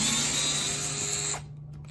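Screws are backed out of a door knob with a power driver, giving a steady loud mechanical whine for just over a second before it cuts off to near silence.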